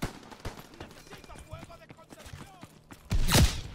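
Claymore mine blast in Call of Duty: WW2, a single loud burst near the end after quieter clicks and scattered battle noise.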